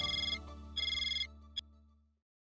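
A telephone rings after a call is placed, giving two bursts of electronic ringtone chirps and then a short blip. A steady low hum runs underneath and fades out at the end, and no voices are heard.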